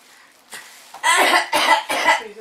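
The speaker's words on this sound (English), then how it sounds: "Bad cough." Several harsh, close coughs at a first birthday party come in quick succession, each burst loud and separated by short gaps, after a quieter throaty start.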